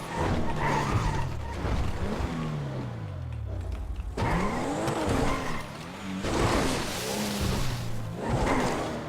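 A car in GTA races along with its engine revving up and down in repeated sweeps, while tires squeal and skid through several hard turns, loud and close throughout.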